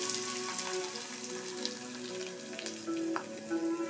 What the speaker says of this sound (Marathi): आता मी कांदा टाकते आहे